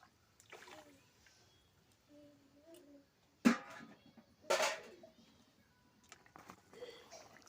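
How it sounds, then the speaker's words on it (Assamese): Hot water poured into a pan of large-cut fried potatoes in a home kitchen gives two brief splashy bursts with sizzling, amid quiet background sounds. "আৰু ইয়াতে মই গৰম পানী দি দিম"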